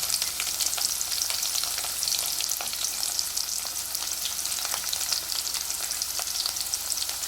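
Onions and green chillies frying in a pan, a bright constant hiss of sizzling oil with occasional soft stirring clicks, close and steady with no voices.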